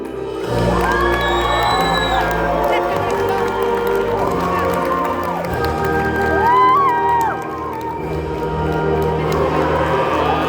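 A live crowd at a Medieval Times jousting dinner show in California cheers, whoops and shouts loudly and steadily throughout, with children's shouts and some clapping mixed into the dense, continuous roar.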